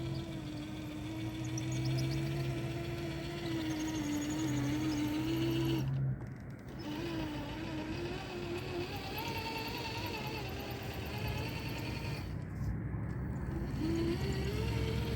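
A Traxxas TRX4 RC crawler truck with a winch creeps along in second gear on a trail, its small motor giving a steady whine that holds nearly constant, broken by two short dips in level.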